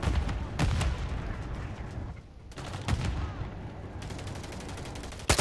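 An artillery strike in Call of Duty Modern Warfare 3 pounds away in dense, loud rolling bursts of explosive fire and rapid gunfire, continuous for several seconds with a brief lull in the middle.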